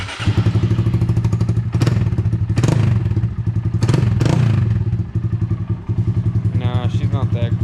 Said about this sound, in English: let's go ahead and start the Grom up.